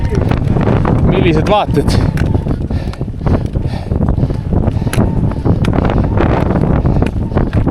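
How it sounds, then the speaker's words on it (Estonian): Strong crosswind buffets a microphone outdoors on arrival in Lapland for a fishing trip, a loud continuous roaring rumble, with a person talking over it. "Räme küljetuul on"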